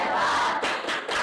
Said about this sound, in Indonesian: Tepuk good job dulu untuk kelompok 5.